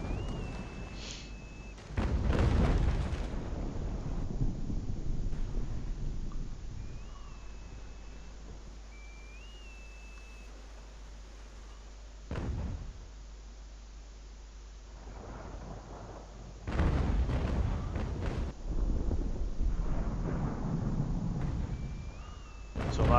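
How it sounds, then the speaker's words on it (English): Distant ship cannons boom in the naval battle game Naval Action, with rolling, thunder-like blasts in separate bursts and a faint ambient background between them. "You can see when the large ones fire, there's a lot of rounds come out of it and a lot of smoke"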